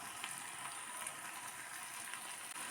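Thinly sliced onions frying in hot coconut oil, a faint, even, crackling hiss with small pops, heard alone without voices.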